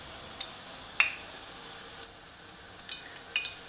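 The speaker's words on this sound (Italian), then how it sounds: "Intanto l'aglio sta soffriggendo." A soft, steady sizzle of garlic frying in a pan, with occasional sharp pops and crackles scattered throughout.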